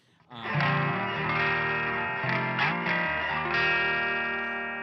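Electric guitar played through effects on the neck pickup, a sustained, thick chord ringing out with chorus-like shimmer and distortion, a few strummed changes midway, full and close with no talking.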